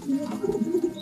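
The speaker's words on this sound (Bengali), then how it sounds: "এই আর একটা কবুতর উদা" A pigeon in a high-flying pigeon loft gives a short, soft, low coo of a few throaty pulses, close by and alone.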